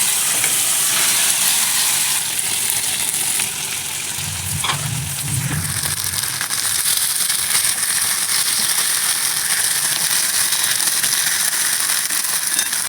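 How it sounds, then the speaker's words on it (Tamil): Marinated meat coated in masala fries in a pan with a loud, steady hiss and crackle throughout, a brief low rumble and clatter of stirring partway in, and no voices. "நல்லா சுருள வறுத்துட்டேன்"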